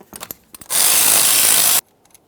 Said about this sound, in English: We'll just use our 14mm to remove our 2 caliper slider bolts